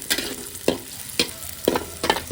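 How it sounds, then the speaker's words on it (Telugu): Onions and green chillies fry in a pan for a Telangana-style goat liver fry, a continuous close sizzle broken by four or five rhythmic spatula scrapes roughly every half second. "ఈ ఆనియన్స్ మొత్తం పచ్చివాసన పోయేంత వరకు గోల్డెన్ బ్రౌన్ కలర్ వచ్చేంత వరకు బాగా వేయించుకోవాలి"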